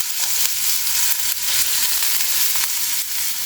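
Finely chopped onions, four of them, fry in a pan over low-medium flame for street-style kachori filling, giving a steady, dense sizzle that holds even and close throughout with no voices.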